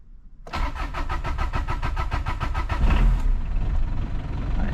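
A Peugeot 205 engine cranks with a rapid, rhythmic starter whir for a few seconds, then catches and settles into a steady, close idle.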